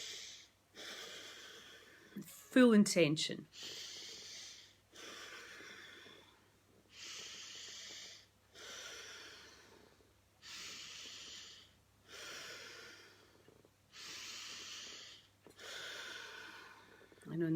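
Slow, deep in-breaths during a guided breathing exercise, with soft airy breaths repeating about every two seconds and a brief spoken phrase near the start.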